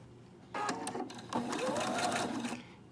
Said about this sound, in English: you want to sew from this top point all the way down to here